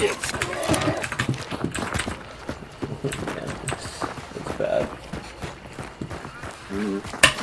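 Horses in Hunt: Showdown, a rapid clip-clop of hooves running in bursts under frequent talk from a player, with faint dog noises mixed in.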